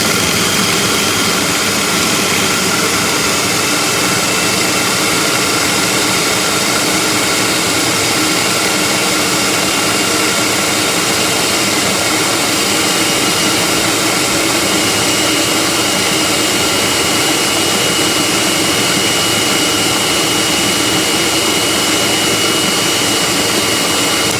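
An electric mixer runs steadily with its cover on, a loud continuous whirring drone that holds unchanged with no voices over it.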